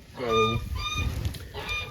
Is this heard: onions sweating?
no